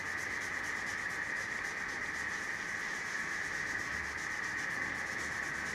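Steady, continuous rubbing of a cloth over the finish of wooden furniture, polishing and spreading the wax or existing finish in an even, close, uninterrupted hiss with no talk.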